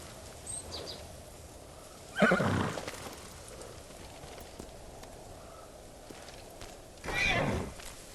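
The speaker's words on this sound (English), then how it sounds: "You're a good horse" Two loud horse whinnies from the video game Ghost of Tsushima ring out several seconds apart over a quiet background, each a shrill, quavering neigh.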